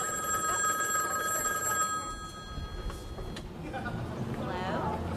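A telephone bell rings in repeated bursts, fairly loud and close, with background noise and some activity underneath.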